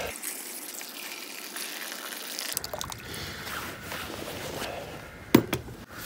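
Water poured into a container during a diecast toy restoration, a Dinky Toys Cadillac ambulance being stripped with caustic soda; a steady broadband gush runs for several seconds, with a sharp clatter near the end.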